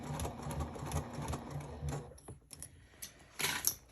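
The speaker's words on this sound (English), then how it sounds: "So I'll just keep sewing." Sewing machine stitching fabric in short, close runs of rapid mechanical clatter with brief pauses between them, and a faster burst near the end.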